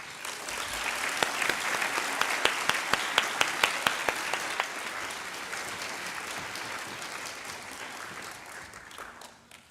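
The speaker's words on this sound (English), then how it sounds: "Let's give a round of applause to our finalists." An audience at a university student leadership awards ceremony applauds its finalists: loud, full clapping from a large crowd with a few sharp individual claps standing out early, then a sustained wash that gradually tapers off.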